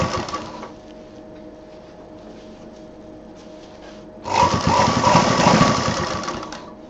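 Sewing machine stitching a homemade college bag: a quieter mechanical hum first, then a louder rapid run of stitching that continues to the end.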